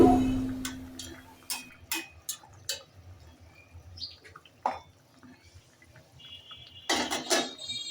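Fried snakehead fish pieces drop into a boiling curry pot of beans and potatoes, making scattered clinks, taps and wet splashes at close range, with a louder sizzling clatter near the end and quiet gaps between.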